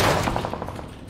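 Gunfire in PUBG: a quick run of about seven evenly spaced shots, fairly loud and close, fading slightly toward the end, with no talk over it.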